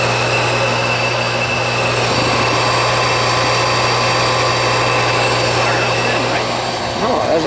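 A high-efficiency gas furnace's blower runs as a steady, loud mechanical hum with a constant low drone, continuous for the whole span with a slight shift near the end.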